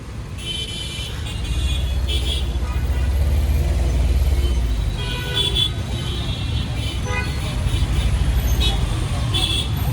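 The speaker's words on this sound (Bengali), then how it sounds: "আপনাদেরকে আমি লাইভ জ্যাম দেখাচ্ছি একটু একটু করে গাড়ি চলছে চলার পর পরে আবার বন্ধ হয়ে যাচ্ছে" A night traffic jam on a Dhaka road where vehicles creep forward and stop again, with a continuous low engine rumble and repeated short horn toots from several vehicles, some near and some farther off.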